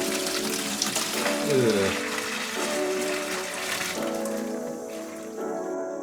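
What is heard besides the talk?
coolant draining from mini trophy truck radiator lines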